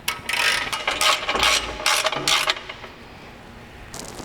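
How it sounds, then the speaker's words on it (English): A ratchet tightens a 15 mm bolt on a Polaris RZR XP Pro front bumper, several close bursts of rapid clicking strokes with short pauses, then a final brief burst after a quiet gap. "we'll tighten this up with our 15 millimeter"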